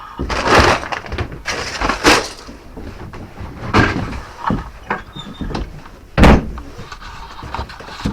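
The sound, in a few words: closing rabbit enclosure door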